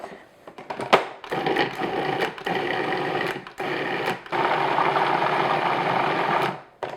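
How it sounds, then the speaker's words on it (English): A food processor purees banana cake batter with vanilla extract, a close, loud, steady motor whir that runs for several seconds, broken by a few brief stops and restarts. "And I'm going to puree this until it's nice and smooth."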